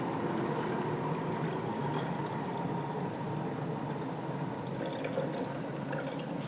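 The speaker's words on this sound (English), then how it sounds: "pour the water in." Water pours steadily into a rice cooker's inner pot, a continuous close, full-bodied splashing and trickling that holds at an even level throughout with no talk.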